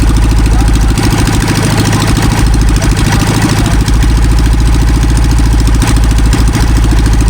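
A motorcycle engine idles loud and close to warm up, a steady pulsing drone with an uneven low throb, alone with no voices.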